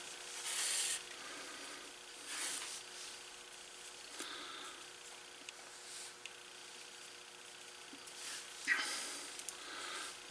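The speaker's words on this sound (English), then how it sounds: "I'm going to go ahead and wax my thread up." Waxed thread rubbed and pulled through wax during leather holster work, soft quiet rasping strokes repeated several times with pauses between, heard alone.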